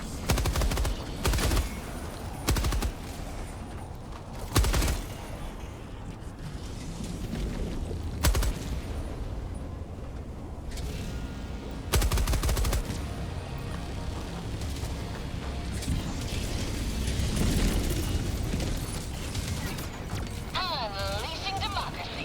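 Rapid machine gun fire in a video game plays in dense, loud bursts, layered with booming explosions and mechanical clatter throughout, with other game sounds mixed in.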